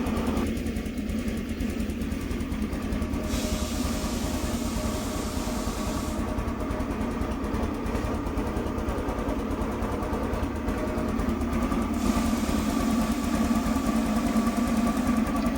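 A TVS Jupiter 125 BS6 scooter engine, just repaired after a slow-speed fault, runs steadily with an even, continuous hum that holds at a constant level throughout.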